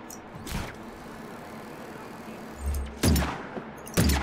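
Weapon fire in the open-world action game Just Cause 3: a few loud, sharp shots spaced apart over a low ambient rumble, with one heavier burst near the end.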